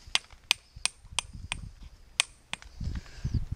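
Glass arrowhead knapping breaks down a bevel edge with a series of sharp, close clicking taps at a fairly regular pace. Softer rustling and handling noise follow near the end.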